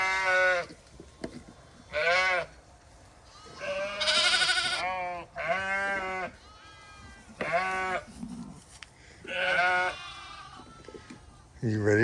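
Sheep and lambs bleat repeatedly on a solar-panel pasture, close and loud, with overlapping calls and brief pauses between them, and a bit of background noise.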